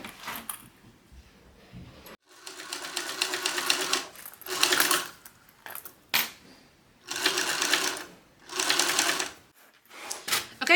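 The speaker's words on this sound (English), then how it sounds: "We're gonna sew this together at 1/8 of an inch seam allowance with the front of our flap facing up" A sewing machine stitching a fabric flap at a 1/8 inch seam allowance whirs in several short, quiet bursts with brief pauses and small mechanical clicks between them.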